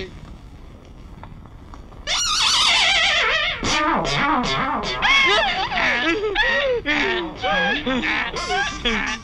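A donkey brays loudly in a scene from a 90s Hindi comedy film. After two seconds of quiet, a harsh wavering wail begins and rises and falls in repeated heaving cries until the end.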